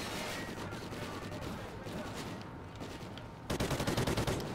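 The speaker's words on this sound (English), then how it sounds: "we don't hear all these gunshots and all this crazy stuff going on" Dense rapid gunfire from the video game Call of Duty Ghosts, with bursts running steadily throughout and a sharper close burst of rapid shots near the end, loud and continuous.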